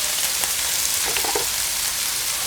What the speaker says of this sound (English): Time to sizzle the bacon, chicken